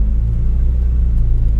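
A car's engine pulling away in first gear at very low speed while the clutch engages, a steady low rumbling drone with constant throttle and no talk.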